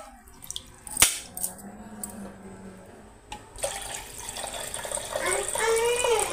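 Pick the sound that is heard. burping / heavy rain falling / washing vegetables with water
washing vegetables with water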